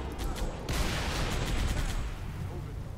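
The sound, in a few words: gunfire from Halo Reach video game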